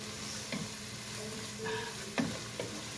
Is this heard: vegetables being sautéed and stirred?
yes